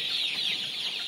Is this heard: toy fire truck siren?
no